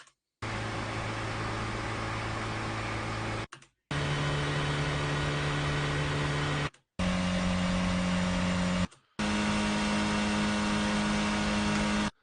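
A car engine, recorded unprocessed for game sound design, idles at 1,000 RPM and revs in four steady sustained takes separated by short silences, each with a strong low hum and broadband roar.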